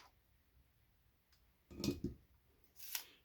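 Wire cutters snip the wires off a string of Christmas lights being scrapped for copper and brass, giving a few quiet, close clicks and cuts in a faint room.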